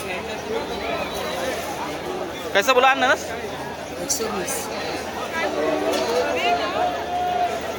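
A dense crowd murmurs through a busy fruit market in Dadar, Mumbai, crowded with Ganpati festival shoppers, while a nearer voice speaks briefly over the steady babble and short sharp noises break through now and then.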